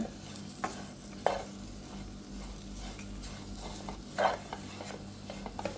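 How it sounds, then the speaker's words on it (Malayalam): A spoon scrapes and stirs dates in a pan at irregular moments over a quiet, steady sizzle, close up and without any talking. "അപ്പോൾ ദേ ഡേറ്റ്സ് കൂടെ ഞാനൊന്ന് ജസ്റ്റ് ഒന്ന് ചൂടാക്കി എടുക്കുകയാണ്"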